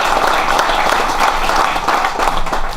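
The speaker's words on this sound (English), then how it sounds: "just like to give a round of applause for him" An audience at a maple hall of fame induction ceremony gives a round of applause, a loud, dense clapping that carries evenly through the whole clip.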